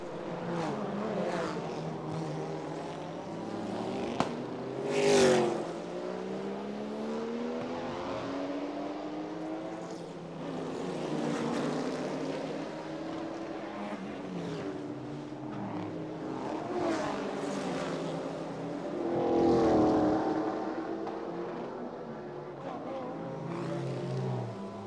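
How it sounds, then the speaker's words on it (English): A Mazda RX-7 rotary race car runs on a street circuit, engine notes rising and falling through revs and gear changes from a moderate distance, with a commentator talking throughout. "The RX-7 that doesn't know when to stop spinning that rotor."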